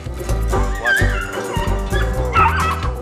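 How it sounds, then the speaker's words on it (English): Several hunting dogs on a fresh rabbit trail give excited yips, whimpering squeaks and rising barks in a busy, overlapping chorus, fairly close and continuous, with no talk over them. "the hotter they get, the more they start to bark"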